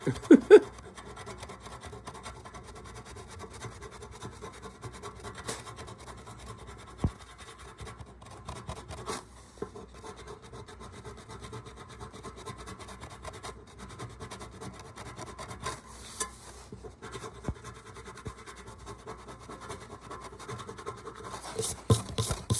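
A scratch-off card is scraped in a long, steady rasping stroke pattern, quiet and close, with a few louder scuffs at the start and end and no talking.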